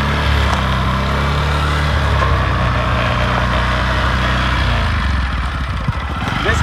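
A motorcycle engine, running after a starting problem, chugs close by in a steady, uneven idle with a low throbbing pulse, slowing and sputtering a little toward the end.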